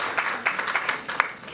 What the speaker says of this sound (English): Folks in the gallery, please join me in giving one more round of applause to these exceptional students.